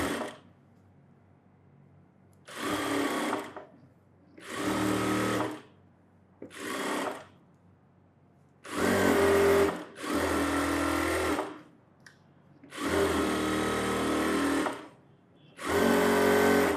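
A sewing machine stitches around ironed cotton fabric for an umbrella frock, running in eight distinct loud bursts of whirring with short silent pauses between them, close and alone with no talk.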